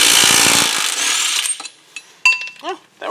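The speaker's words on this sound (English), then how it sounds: "this is a 32mm bolt, and I'm going to try the impact wrench here, see if that will work for this" An impact wrench hammers loudly and briefly on a 32mm hub bolt of a 1988-91 Honda Civic/CRX during a brake service, then stops, followed by a few metallic clinks and rattles close by.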